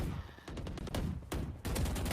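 Rapid gunfire in the Valorant game comes in dense, loud bursts of repeated shots with brief gaps between volleys, sounding close and continuous through the short stretch.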